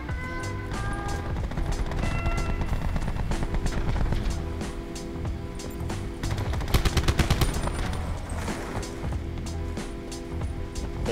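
Gunfire rages in the Alcatraz map of Call of Duty Blackout, with dense, continuous shooting over loud game music and effects, peaking in a burst of rapid shots midway.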